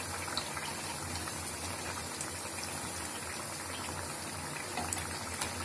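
Thavala vadai frying in oil on a medium flame, a continuous dense bubbling crackle, steady and close throughout.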